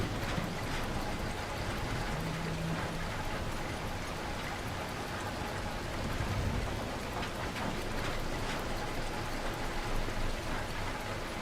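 Steady rain falls in the video game The Last Caretaker, a dense even patter of drops with some faint rumbling beneath. It keeps up at a moderate level throughout with no voices.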